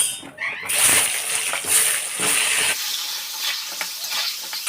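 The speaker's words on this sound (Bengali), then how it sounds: "আলুগুলো লাল লাল করে ভেজে নেব" Potatoes fry in hot mustard oil with turmeric and salt, a loud continuous sizzle broken by several bright scraping stirs in the first few seconds, with no talking.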